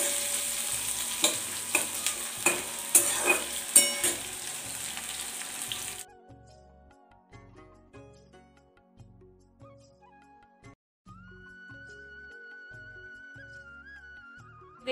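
Ridge gourd and onions frying in a pan, with a loud sizzle and repeated stirring scrapes for the first six seconds, then quieter clinks and a faint steady tone.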